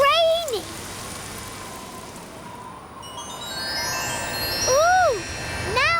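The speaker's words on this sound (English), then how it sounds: "It's all cloudy and rainy." Cartoon rain falls in a steady soft patter across the scene while children's voices and chirpy cartoon sounds rise over it at the start and near the end.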